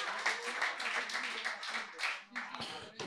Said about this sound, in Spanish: Un aplauso al nuevo.